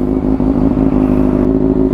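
Kawasaki motorcycle idling with its dB killer removed, a steady heavy exhaust grunt with a low throbbing rumble held loud and close for the whole stretch, no talking.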